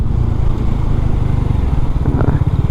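Motorcycle cruising along a road near Hanoi, Vietnam, its engine a loud, steady low rumble close by with wind noise and faint traffic in the background.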